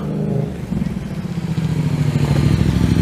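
A motorcycle engine idles and rumbles steadily nearby on a street in Montreal's Pointe-Saint-Charles, its low throbbing growing slightly louder, with faint voices mixed in.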